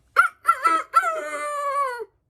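A man imitates a rooster crowing with his voice, a single loud cock-a-doodle-doo with short broken notes and then a long drawn-out final call, close and alone.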